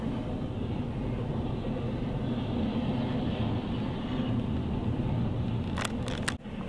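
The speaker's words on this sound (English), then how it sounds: "Always when you want to go home, you get stuck behind a train" A train passes a road crossing while the listener waits in a stopped car, giving a steady low rumble heard from inside the vehicle, with a brief clatter near the end.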